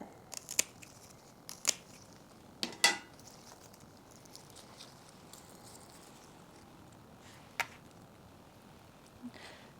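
Sharp snips of pruning scissors cutting begonia stems during spring repotting, a handful of crisp isolated clicks spaced irregularly against a quiet room, close and moderately loud.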